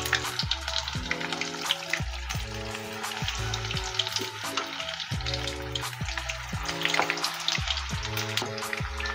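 Six chicken lollipops fry in hot oil with a dense, steady sizzle and crackle that holds without a break.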